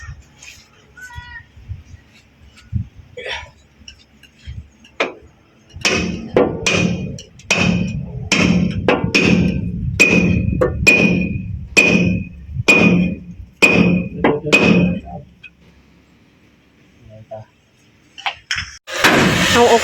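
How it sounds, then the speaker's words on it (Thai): A hammer pounds a heated metal car part during a repair, around a dozen loud, evenly spaced ringing strikes in a row, with quiet stretches on either side. "แล้วก็ต้องตอกตอนมันร้อนๆมันถึงจะเข้า"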